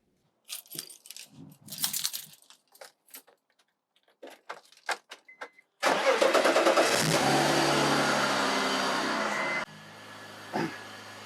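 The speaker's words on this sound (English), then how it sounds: "We can go turn on the car." Clicks and small clatters, then a BMW E46's engine cranks and catches, settling into a steady idle close by before a brief rev-like bump near the end.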